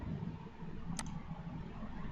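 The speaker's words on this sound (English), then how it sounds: "we'll click here." A single short computer mouse click sounds once, close and crisp, during work in an Excel spreadsheet, standing out against a quiet room hum with no talking.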